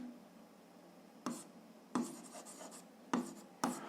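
A pen or marker writes out a math solution, making soft scratchy strokes with four distinct taps and scrapes, close and quiet over a faint background hum.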